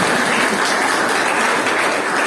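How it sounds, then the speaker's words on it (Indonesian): An audience at a school religious lecture event in Tulungagung, Indonesia, gives a steady burst of applause, dense and even throughout, with no voices over it. "Sekali lagi kita beri aplaus Bapak Kiai Haji Nafis."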